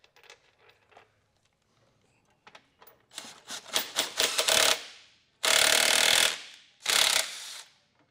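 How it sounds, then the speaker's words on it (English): Socket wrench ratchet running bolts in by hand while a Curt trailer hitch receiver is installed on a 2023 Honda Odyssey; soft handling at first, then close, rapid clicking bursts in several runs, the last two loud and sustained. "I'm going to take my socket, run these up on all four of them"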